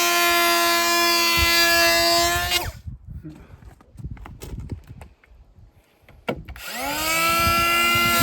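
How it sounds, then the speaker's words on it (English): A power planer shaving the top of a wooden support for a site crane, its loud, harmonic whine running at the start and returning near the end, with someone talking and knocks in the quiet gap between. "I've just planed off the top, and that was to get the this level here"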